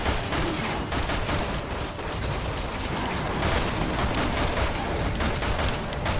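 Dense, continuous gunfire from the video game Resident Evil 6, with sustained rapid bursts and shots filling the scene steadily at loud, even volume, no voices over it.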